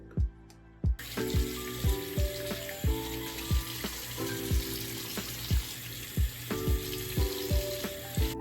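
Water runs steadily from a tap at a sink while hands splash water onto a face in a regular series of soft, close slaps.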